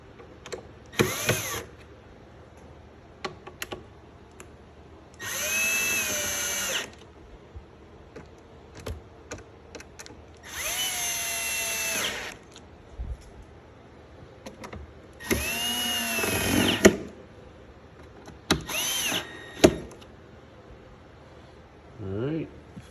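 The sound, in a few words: power drill tightening screws on Marshall amp head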